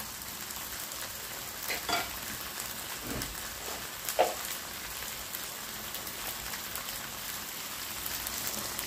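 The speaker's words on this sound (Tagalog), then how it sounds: "At i-add na natin ang tubig. I-add tayo ng tubig." Water goes into a hot pot of patola (sponge gourd) with ground meat, raising a continuous sizzling, bubbling hiss with a few louder splashes and stirring scrapes, close and with no talking.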